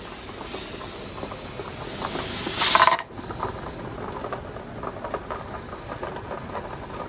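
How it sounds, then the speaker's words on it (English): Steam escapes from a pressure canner loaded with bone-in chicken legs, a steady hiss that surges sharply for a moment, then cuts to a quieter background with faint mechanical ticking. "So right now I'm just waiting on the steam to escape"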